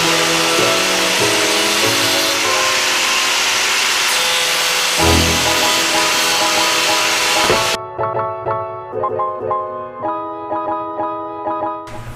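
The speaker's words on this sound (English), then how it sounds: "But this one we use the small little Dremel just to kind of get a nice clean cut on here." Dremel rotary tool cutting into a Dodge Viper GTS ACR body panel for a wing install, a steady high-pitched grinding whine that runs continuously, then breaks into shorter interrupted bursts with a clear tonal hum near the end.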